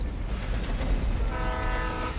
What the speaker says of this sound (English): Yeah, that's a train